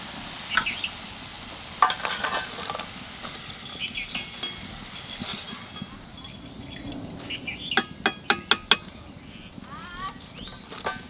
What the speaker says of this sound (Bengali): তেলের উপর দিয়ে দেবো জিরে তেজপাতা, লং, দারচিনি, এলাচ